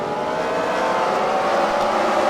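Race cars in a wrecker car race at the Freedom Factory, their engines a loud, unbroken roar that swells slightly over the whole stretch, with no voices.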